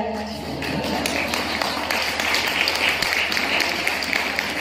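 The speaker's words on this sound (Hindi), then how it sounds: "इस बार भाई लोगों ने क्यों तालियां कम बजाई?" Applause from a gathered audience at a Hindi religious discourse, dense steady clapping throughout with faint crowd murmur underneath, moderately loud and close.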